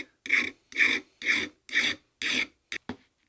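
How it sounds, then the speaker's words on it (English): A tiny flat file rasping across the rough corners of a cast Stanley spokeshave body, five even strokes followed by two quick short ones, close and alone. "I just have a tiny little flat file here with a round side as well, and I'm just gonna quickly break these corners because they're awfully jagged."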